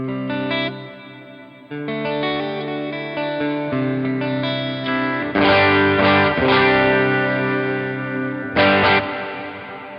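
Distorted electric guitar run through a dynamic hall reverb on a Line 6 HX Stomp XL with diffusion turned all the way up: sustained chords changing every couple of seconds, each wash ringing into the next, loud and alone.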